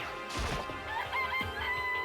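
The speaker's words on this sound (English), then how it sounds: "It's a chicken." Game sound of a chicken in Danganronpa: Trigger Happy Havoc, a short squawking cluck and crow over a busy game background, lasting about two seconds.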